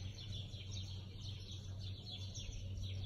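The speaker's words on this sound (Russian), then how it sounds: "Обратите внимание, как птицы поют." Birds sing and chirp in the garden of a seaside hotel in Port El Kantaoui, Sousse, Tunisia, as a quiet, steady stream of high tweets over a low constant hum, with no talk.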